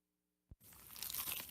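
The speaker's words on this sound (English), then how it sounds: "Is that the sound of an ooey gooey cheesy crunchy slice of P-I-Z-Z-A?" A crunchy, cheesy pizza slice is bitten: after a moment of near silence and a faint tick, a loud, dense crunching burst follows and holds for about a second.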